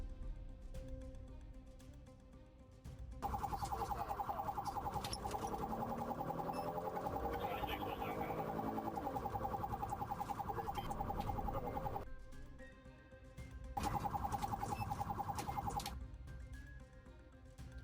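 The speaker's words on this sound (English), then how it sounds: "The officer lit up his sirens," A police car siren wails during a dashcam highway chase, a loud sustained electronic tone running for several seconds, cutting off briefly, then resuming before stopping again over a low engine and road rumble.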